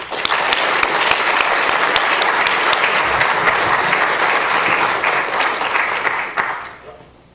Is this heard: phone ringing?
no